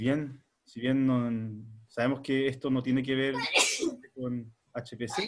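A sharp sneeze bursts out in the middle of a Spanish-language online class tutorial, with someone talking before and after it.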